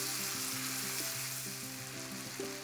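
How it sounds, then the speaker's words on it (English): Tomatoes frying in a pan for cauliflower sabji, a continuous hissing sizzle with stirring, steady and close, faint in level, with soft background music beneath. "Stirring well, you can cook the tomatoes until it becomes mushy."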